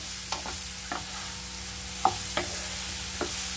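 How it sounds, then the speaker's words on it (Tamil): Banana pieces sizzle softly in ghee as they fry and get mashed, with several sharp spatula knocks and scrapes against the pan over a low, even hiss. "நம்ம கட் பண்ணி வச்சுருக்க வாழைப்பழத்தை இதில் ஆட் பண்ணிடலாம் நெய்யில் நல்லா வாழைப்பழம் நல்லா வதங்கணும்"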